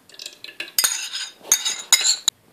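A metal spoon scoops mango pulp into a bowl for a smoothie, making a few sharp clinks and scrapes against the bowl in quick, close bursts.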